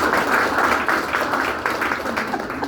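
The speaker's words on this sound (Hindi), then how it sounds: "बहुत मस्त आदमी है, उनके लिए तालियां बजा लो।" An audience at a training and celebration event in Ahmedabad claps for a speaker, making a steady, diffuse wash of applause throughout. Voices can be heard mixed in with the clapping.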